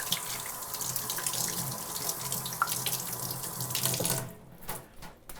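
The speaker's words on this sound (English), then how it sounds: "You turn on the water, take the two, put them together, wash," Tap water runs steadily into a sink during handwashing with hand soap and a citrus degreaser hand cleaner, a continuous close splash that cuts off near the end, leaving brief drips and handling sounds.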